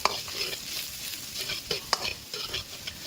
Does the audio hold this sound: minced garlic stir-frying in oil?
yes